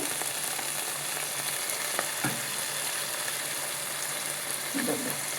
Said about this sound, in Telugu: వేగుతూ ఉన్నాయి చూడండి.